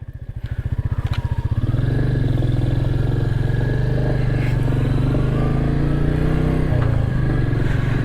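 A Royal Enfield Meteor 350 motorcycle, freshly valve-adjusted and fitted with a modified air filter, thumps steadily and loud as it rides, its pulsing single-cylinder beat rising at the start and holding a smooth drone, with a brief dip suggesting a gear shift.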